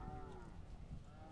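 Cattle low in a low, rumbling moo on an open ranch, with the call sliding downward, heard faintly and briefly with a second soft moo shortly after.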